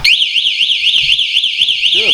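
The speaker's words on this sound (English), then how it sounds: "so the alarm is already installed on the bike" An electric cruiser bike's built-in anti-theft alarm wails loud and close in a fast, rising-and-falling siren, continuous throughout, with a voice speaking briefly at the very end.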